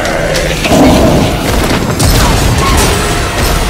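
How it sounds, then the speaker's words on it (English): A fiery explosion from the villain Firefly in the video game Batman: Arkham Origins, a loud, sustained blast of booming rumble and crackle that stays dense across the whole stretch with no quiet gaps. "A quick, incinerating flash of an explosion"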